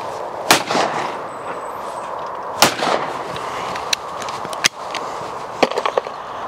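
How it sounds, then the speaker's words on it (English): A side-by-side shotgun fired at clay targets, with several sharp, loud reports spaced irregularly through an outdoor scene with faint background noise. "I mount the gun, overtake it, pull the trigger"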